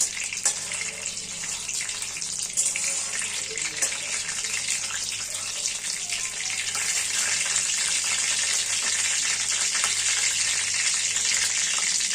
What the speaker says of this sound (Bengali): তার জন্য সর্ষের তেলটা দিয়ে দিলাম, একটু কালো জিরে ফোড়ন দিলাম